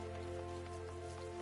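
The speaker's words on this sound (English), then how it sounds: "'tis raining in Gridania" Steady soft rainfall in Gridania, a forest city in the video game Final Fantasy XIV, with a continuous patter over a low constant hum, no voices.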